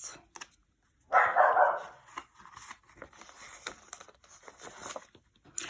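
A dog barks once in a loud, close burst near the start, followed by quieter household shuffling and handling noises, with no talking.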